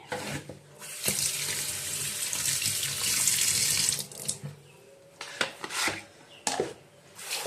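Fish being washed under a running kitchen tap, a loud steady stream splashing into the sink for about four seconds, then stopping and starting in short bursts with rubbing and handling noises.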